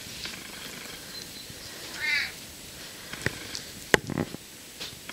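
A household cat gives a short, clear meow partway through, followed by a few faint bumps and clicks in a quiet indoor room.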